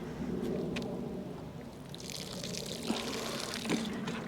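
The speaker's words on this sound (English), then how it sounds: "Just going to water these in" Water poured from a can or hose onto freshly planted plants in a no-dig garden bed, a steady close splashing trickle running throughout with no talk.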